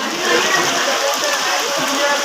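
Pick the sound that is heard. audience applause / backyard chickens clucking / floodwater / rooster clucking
floodwater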